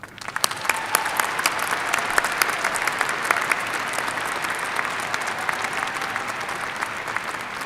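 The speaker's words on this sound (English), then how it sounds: "Please join me in a round of applause for our faculty and staff." A commencement ceremony crowd applauds steadily, a broad wash of many clapping hands sustained at even loudness throughout, with a few sharper claps standing out near the start.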